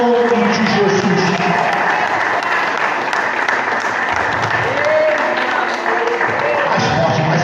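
A church congregation applauding during a morning service, a full, sustained wave of clapping filling the room, with voices calling out beneath it and a brief lull partway through.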